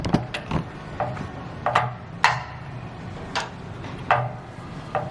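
Adjustable wrenches tightening the coupler of a Donastar tractor water filter, heard as a close series of sharp metallic clicks and ratcheting knocks at uneven intervals over low background noise.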